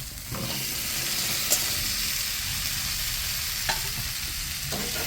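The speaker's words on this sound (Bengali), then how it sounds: "এই রকম মশলা থেকে হালকা হালকা তেল ছাড়তে শুরু করলে ভেজে রাখা সবজিগুলো মশলার মধ্যে দিয়ে দেব" Fried pointed gourd vegetables stirred into spice paste releasing oil, a steady sizzle with scraping spatula strokes and a few sharp clinks against the pan, close and continuous with no talk.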